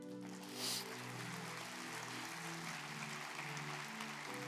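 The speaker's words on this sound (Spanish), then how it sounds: "Dale un aplauso al Rey" A church congregation applauding, a steady wash of clapping that stays low and even, with a sustained tone running underneath.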